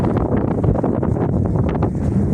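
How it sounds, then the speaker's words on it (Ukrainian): Strong wind buffeting the microphone, a constant loud rumbling roar with gusty fluctuations. "Який вітер."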